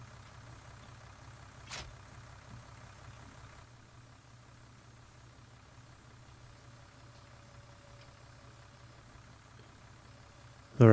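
A small tractor engine idles steadily in Farming Simulator 19, giving a low constant rumble with a faint click partway through and a sudden louder burst at the very end.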